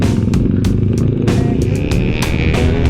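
A motorcycle engine drones steadily while riding a coastal road in Bicol, Philippines, close and loud with a continuous low hum and repeated brief clattering bursts on top.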